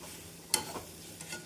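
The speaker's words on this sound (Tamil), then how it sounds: "நாம் பொரிக்கடலை சேர்த்து ஒரு முறை கிளறி அடுப்பை ஸ்விட்ச் ஆஃப் செய்து விடலாம்." Roasted gram stirred into onion-tomato chutney in a frying pan, a sharp scrape of the spoon followed by lighter stirring scrapes over a gentle sizzle, with no talking.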